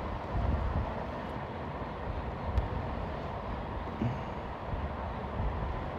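Delhi Metro underground train running through a tunnel, a steady loud low rumble and rush with faint rail clatter and a few light knocks, continuous throughout.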